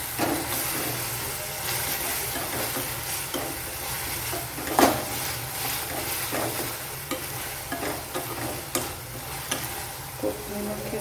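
Vegetables stir-fried with pepper and sauce for Chinese veg fried rice, a steady broad sizzle and hiss from the pan with scattered clinks and scrapes of a spatula stirring throughout, close and continuous with no talking.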